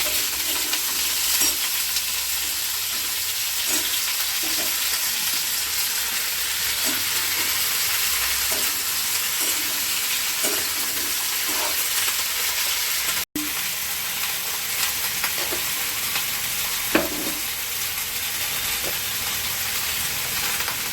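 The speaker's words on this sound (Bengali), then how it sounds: "লাল লাল করে এগুলো ভেজে নেব" Ridged gourd curry ingredients — sesame, poppy seed and peanuts — frying in a pan with turmeric, a steady broadband sizzle with scattered scrape-and-clack strokes of stirring throughout, close and even in level, no talk.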